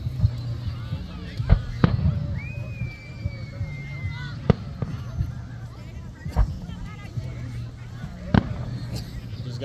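July 4th fireworks burst in sharp, scattered booms and cracks, several loud reports spaced a few seconds apart, with a whistling rocket rising early on and a low murmur of background noise between blasts.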